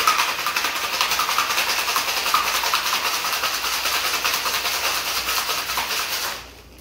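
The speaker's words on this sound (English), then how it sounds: "And then we're going to shake it with ice for about 10 seconds to chill" Ice rattles hard inside a cocktail shaker as a raspberry gin cocktail is shaken, a dense, fast, steady rattle that runs for about six seconds and then cuts off.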